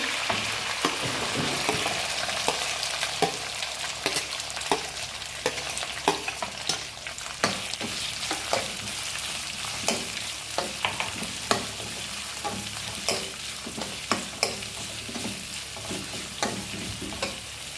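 Curry leaves, mint and onion fry in hot oil for mutton pepper dry, a steady close sizzle broken by frequent sharp crackles and pops and occasional stirring scrapes, with no talk.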